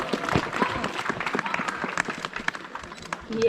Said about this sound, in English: So we're gonna give Gus a round of applause.